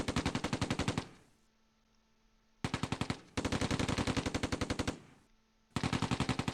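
Rapid automatic gunfire bursts from a tank in the Close Combat II war game, three long sustained rattling volleys separated by short pauses, loud and close with no talking.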